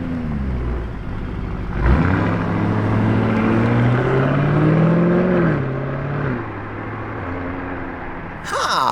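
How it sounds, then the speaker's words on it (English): Lamborghini Urus pulling out through the factory gates in Sant'Agata Bolognese, a loud, close engine that rises and falls in pitch as it revs, then settles into a steady drone. "A noisy Urus, okay."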